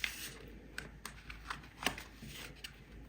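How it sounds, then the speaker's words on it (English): Oracle cards from a Green Witch's Oracle deck shuffled by hand, a series of soft, close riffling flicks at an irregular rhythm, fairly quiet, with no talk. "shuffling randomly until one of them comes out"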